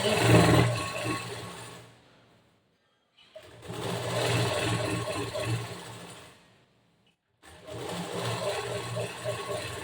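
A sewing machine stitching a boat-neck blouse back panel runs in three loud, steady bursts, each stopping abruptly with short silent pauses between.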